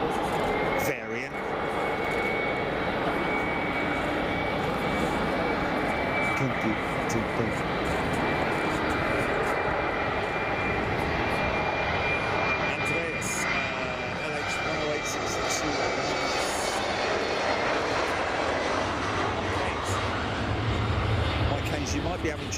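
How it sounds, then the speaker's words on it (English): An Airbus jet with Pratt & Whitney engines at Frankfurt Airport gives off a loud, sustained engine roar with a steady whine on top that continues unbroken for over twenty seconds. "So now this is the Pratt & Whitney engine variant."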